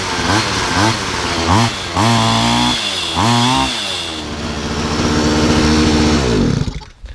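A small two-stroke engine cranked with a socket on the flywheel nut, catching in several short revving bursts, then settling into a buzzing, rising run before cutting off.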